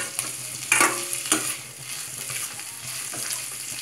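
Puffed rice being stirred as it fries in oil for upma, a steady close sizzle with scraping stir strokes and a few louder clatters of the spoon against the pan, with no talking.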